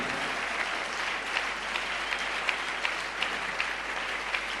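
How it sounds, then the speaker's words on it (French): A church congregation applauding during a worship service, a steady, dense wash of clapping with scattered louder claps standing out, moderately distant and with no talk over it. "nous puissions donner la louange d'acclamation à notre Seigneur Jésus-Christ."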